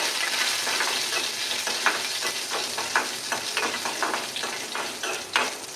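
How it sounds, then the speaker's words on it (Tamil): Urad dal and chana dal fry in hot oil with cumin, sizzling steadily close by, with stirring scrapes and small crackling pops throughout and no talk. "கொஞ்சம் உளுத்தம்பருப்பு கொஞ்சம் கடலைப்பருப்பு இதை சேர்த்து நல்லா கொஞ்சம் பொரிச்சு"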